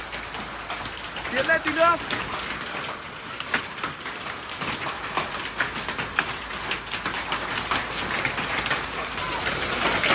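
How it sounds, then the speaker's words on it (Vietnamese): Heavy hail pelting the ground and surfaces along a rough trail, a dense continuous rattling patter that holds steady, with someone speaking briefly near the start. "Anh chưa bao giờ gặp mưa đá như này luôn."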